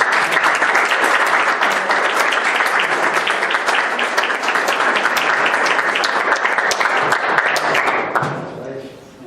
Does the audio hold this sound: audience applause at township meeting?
yes